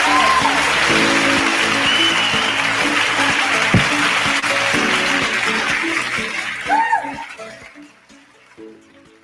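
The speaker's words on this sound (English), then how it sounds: "Please give an applause." Applause from an audience at a cybersecurity forum at an expo, sustained loud clapping that fades out toward the end, with a brief voice near the close.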